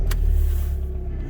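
The 2002 Volkswagen Jetta TDI's diesel engine catches after a brief starter whir and settles into a deep, steady idle rumble, close and fairly loud, with no talking.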